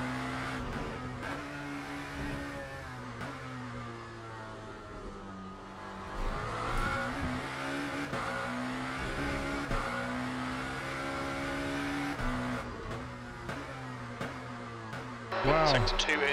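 Hypercar racing engine in the Le Mans Ultimate racing game, a steady droning engine tone that rises and falls through gear changes and throttle, with a sharp rev burst at the end and someone talking over it.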